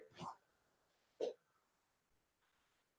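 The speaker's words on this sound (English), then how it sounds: "I just coughed." Two short, sharp coughs from a nearby person, the first at the start and the second about a second later, separated by quiet, with faint breathy sounds toward the end.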